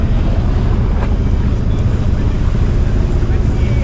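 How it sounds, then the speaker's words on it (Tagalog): Strong sea waves wash around a small boat out on open water, a dense, continuous roar of water and wind buffeting close to the microphone for the whole stretch, with people talking underneath. "Grabe pa ng mga alon."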